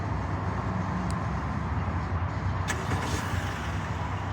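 A 2023 Honda Civic's 1.5-liter four-cylinder engine starts by remote start and settles into a steady, close idle hum with a brief click near the start.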